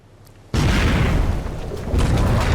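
A torpedo strikes a ship in the World War II naval game Victory at Sea Atlantic, bursting into a sudden loud, sustained explosive roar that swells again near the end.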